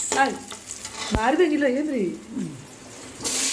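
Cashews, ginger and vegetables sizzle and fry in a pan as a spoon stirs them, giving a soft crackle under a person talking nearby, with a sharp clack of the spoon midway.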